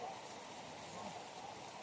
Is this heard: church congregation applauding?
no